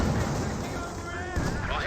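Artillery shells hitting a mortar bunker in the World War II strategy game Company of Heroes 2, heard as a steady, dense roar of rumbling blasts and battle noise with no clear gaps, with a voice faintly under it.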